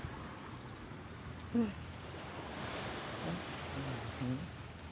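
Sea waves on a beach at Sattahip, a soft, steady surf wash with wind noise, fairly faint, with a few brief voice sounds.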